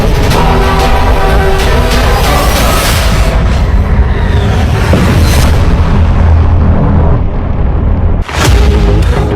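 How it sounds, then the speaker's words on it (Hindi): An anti-tank missile strikes an Israeli Merkava tank near the Lebanon border, setting off a huge explosion. It is a loud sustained blast roar with crackling bursts, a sudden drop near the end, then another burst. "मिसाइल टैंक की तरफ बहुत तेजी से बढ़ती है और इजराइल के मरकावा में बहुत बड़ा धमाका होता है।"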